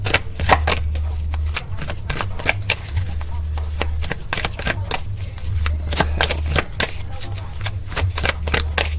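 Tarot cards are shuffled rapidly up close, a loud, dense run of crisp riffling flicks with a low hum running underneath.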